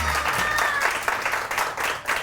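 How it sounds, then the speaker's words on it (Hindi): A studio audience on a Women's Day morning show claps loudly and steadily, the applause rising in surges after a brief musical tone fades at the start. "तो उन तमाम ख़वातीन के लिए पहले तो सबसे ज़ोरदार तालियां जी दोबारा से हो जाए।"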